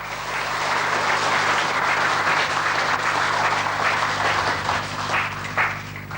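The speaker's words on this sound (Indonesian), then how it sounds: "mohon tepuk tangan yang meriah untuk Bapak Bupati dan Monsinyur" Steady applause from a large audience at a church inauguration reception, sustained and fairly loud for the whole stretch over a low constant hum, with no talking.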